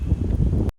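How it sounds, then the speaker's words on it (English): Strong wind of roughly 55 km/h buffets the microphone outdoors with a steady low roar, then drops away abruptly near the end. "it's probably still 55 km/h winds here"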